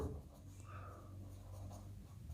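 A pen writing on paper up close, a steady soft scratching of strokes under a low background hum, with no talking.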